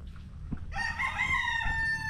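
A rooster crows once, loud and near, a long drawn-out call over faint background noise.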